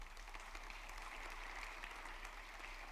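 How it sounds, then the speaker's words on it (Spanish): A church congregation applauds during a sermon, a soft, steady wash of many hands clapping that sounds distant and muffled, with a low hum beneath it and no speech. "Aplauda al Señor mejor."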